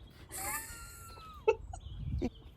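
A lone backyard hen clucks and gives a drawn-out squawk, then a few short sharp cluck notes, close by over a low outdoor rumble.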